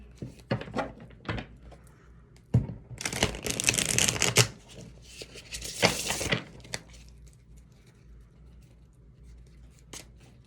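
Oracle cards from a love oracle deck are handled and drawn, giving quick papery slides and flicks, with a denser burst of shuffling and rustling in the middle and a few soft taps afterward, close up with no talking.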